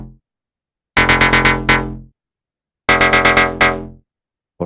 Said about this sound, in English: Diodes are pretty good distortions.